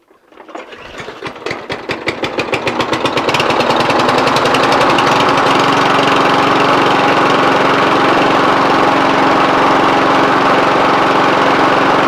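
A walk-behind lawn mower engine fires after a pull cord replacement, a rapid rising chug that builds within a few seconds into a loud, steady, close roar that carries on alone.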